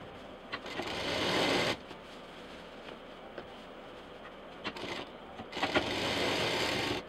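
A sewing machine stitches together a backpack's lining, printed fabric and side wall, running in two long, loud bursts of rapid whirring with a quieter pause between them.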